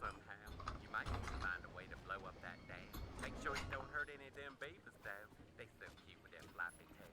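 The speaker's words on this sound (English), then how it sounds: "here we're activating these cranks with the second player" Cranks turning in the Family Guy: Back to the Multiverse video game, a run of mechanical ratcheting and creaking clicks under steady talking and game music.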